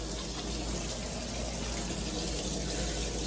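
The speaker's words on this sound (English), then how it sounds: "Start filling it so we can work the liner up as she fills with water." Water gushes steadily from a hose into a new backyard pond lined with a liner, a constant rushing, splashing flow heard close up with no pauses.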